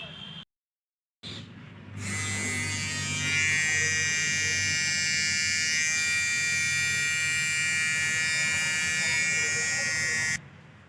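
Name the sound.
beard shaving with a new electric trimmer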